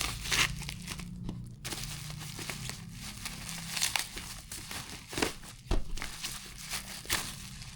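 Crinkly plastic packaging crackles and tears as an Omni heavy-duty extension wire is unpacked, with steady close rustling and a few louder crunches and rips toward the end, heard alone without talking.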